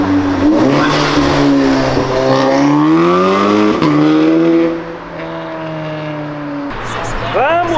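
Three BMW cars drifting on a city avenue, loud engines revving in rising sweeps with squealing tires, close and continuous, while excited voices shout over the noise.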